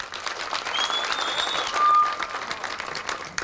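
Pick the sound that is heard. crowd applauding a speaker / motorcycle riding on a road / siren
crowd applauding a speaker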